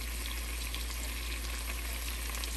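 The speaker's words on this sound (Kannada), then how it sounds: "ಇನ್ನೊಂದು 5 ಮಿನಿಟ್ಸು ಇದು ಓಪನಲ್ಲೇ ಫ್ರೈ ಮಾಡೋಣ" Honey garlic chicken drumsticks fry in an open pan, giving a steady, dense sizzle that stays constant with no pauses and no voices over it.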